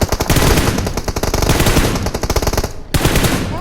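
Rapid automatic gunfire from a video game, dense continuous bursts that fire loudly, break off briefly near the end, then resume.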